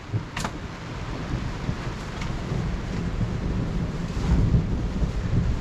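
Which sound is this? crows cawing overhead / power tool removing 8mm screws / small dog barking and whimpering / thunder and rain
thunder and rain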